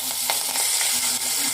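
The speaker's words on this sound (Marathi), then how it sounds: "आता मिश्रणाला फोडणी देऊ." Tempering spices sizzle steadily in hot oil: cumin, mustard seeds, coriander powder, asafoetida and curry leaves fry with a close, continuous crackling hiss and small pops, with no voices.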